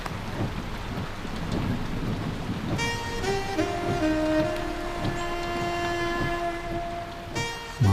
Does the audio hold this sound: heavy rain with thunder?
yes